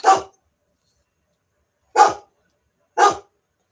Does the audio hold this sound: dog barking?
yes